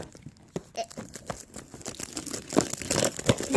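Packaging crinkles and tears as a package is opened up close, with irregular rustling bursts that grow busier and louder toward the end.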